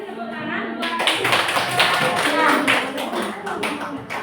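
An audience at a kindergarten teachers' module presentation claps in a dense, steady round of applause for several seconds that fades toward the end, with a voice speaking over the start.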